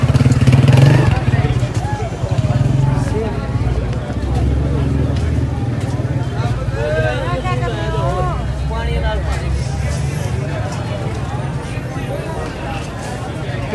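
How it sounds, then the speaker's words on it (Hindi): A motorcycle rumbles along a narrow lane too tight for people to pass, its engine a steady mid-distance drone under street babble and someone talking throughout. "छोटी सी गली और उसमें मोटरसाइकिल गुजर रहा है,"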